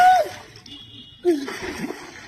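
Water splashes as someone dives under the surface, with a sharp splash at the start and another about a second later, followed by gurgling, and voices calling nearby.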